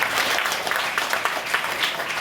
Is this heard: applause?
yes